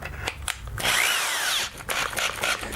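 A power drill runs steadily for about a second in a woodworking shop while a double wine bottle holder is being built, the motor whine loud and close, with short tool knocks before and after.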